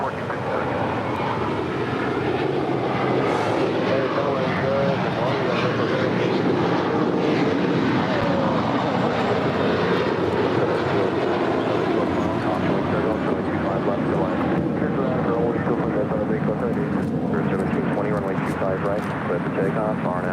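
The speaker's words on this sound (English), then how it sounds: "It's a 777 now just touching down on 25 left." Boeing 777 cargo jet touching down on runway 25 left at LAX, a constant broad roar of engines and rushing air lasting the whole stretch, with voices faintly beneath it.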